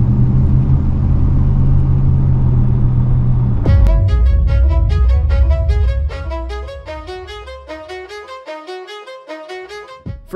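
A 1993 Ford SVT Lightning F-150 sport truck with a 5.8-liter Windsor V8 making 240 horsepower rumbles loudly and steadily up close, then its drone fades as a bright tonal melody takes over.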